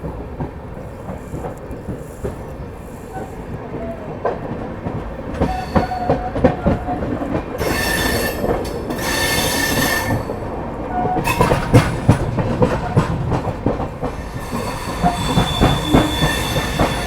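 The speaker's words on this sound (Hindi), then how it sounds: "चलिए निकल चुकी है अपनी ट्रेन जो है मुजफ्फरनगर से।" The 12017 Dehradun Shatabdi Express pulling out of Muzaffarnagar station, heard from on board as loud rumbling wheels, rhythmic clickety-clack over rail joints and occasional high wheel squeal, with no talk.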